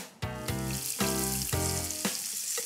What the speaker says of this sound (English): I'm going to saute these just 2 minutes aside.